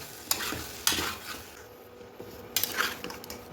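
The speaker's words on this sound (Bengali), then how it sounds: "এবার এগুলোকে হালকা ফ্লেমে ফ্রাই করে নিচ্ছি।" Spices with black pepper powder fry over a low flame in a pan while being stirred, soft sizzling broken by several sharp scrapes and clinks of a utensil against the pan.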